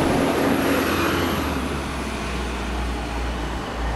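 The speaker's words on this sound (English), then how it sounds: "There's a bus coming" A bus rumbles past on a road as steady, broad traffic noise with a deep low hum, heard while someone walks up to a campus, with no talking.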